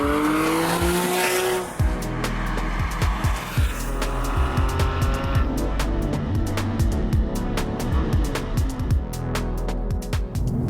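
A Porsche 997 GT3 RS with a 3.8 litre engine driving on the road: a loud, high-revving engine that rises and drops through quick gear changes, with tyre noise, heard from inside the car without talk.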